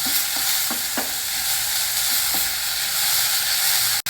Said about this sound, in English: Now saute all these ingredients for a couple of minutes.